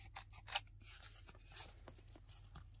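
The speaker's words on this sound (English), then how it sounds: "Just want to snip this off as well." Scissors snip off a piece of paper while crafting tags: one crisp close cut stands out among faint rustling and handling sounds in a quiet room.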